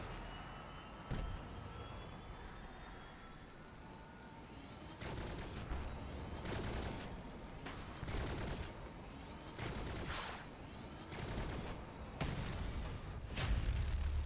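Prometheus weapons firing in the vehicle combat game Crossout: one sharp blast, then a run of six loud booming shots about a second apart over a steady mechanical rumble.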